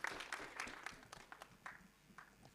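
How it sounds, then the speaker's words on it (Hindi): Scattered audience clapping at a film trailer launch in a hall, faint and uneven, tapering off over a couple of seconds. "ताली बजाओ।"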